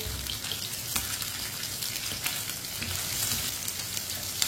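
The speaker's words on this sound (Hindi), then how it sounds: "प्याज को भी चम्मच चलाते हुए पकाना है ताकि प्याज हमारा अच्छी तरह पक जाए" Finely chopped onion fries in a pan and is stirred with a spoon, a continuous close, hissing sizzle with light scraping and occasional clicks running under it.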